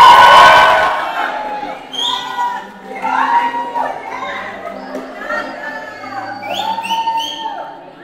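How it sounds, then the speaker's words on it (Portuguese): Guests cheering and whooping as the hosts enter a debutante ceremony at a party venue, a loud burst of crowd noise at first, then scattered excited shouts and voices that rise and fall. "vamos receber com carinho e uma salva de palmas os nossos anfitriões, José Mauro e Andrea!"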